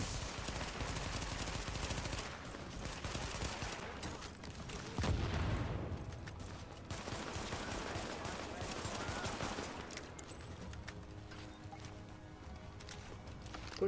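Gunfire rattles through a firefight in the video game The Division, with dense bursts of automatic shots and impacts running continuously at moderate loudness, mixed with game ambience.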